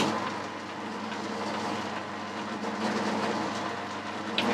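A metal lathe runs slowly in back gear, a steady broadband mechanical drone with faint rhythmic clatter, continuous and fairly loud throughout, with no talking.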